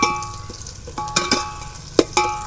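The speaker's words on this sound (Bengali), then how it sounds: "মশলা ভাজা হয়ে গেছে, বাসনা আসছি।" Spices for beef biryani fry in a pot with a steady sizzle, broken by sharp metallic clinks and scrapes from stirring at an uneven rhythm, close and loud.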